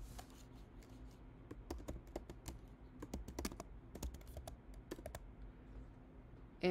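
Quiet, close clicking of keys as someone types on a computer keyboard, irregular bursts of taps with short pauses.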